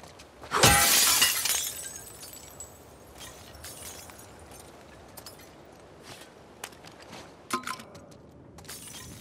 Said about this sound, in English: I'm not a big fan of breaking glass because it makes a lot of noise.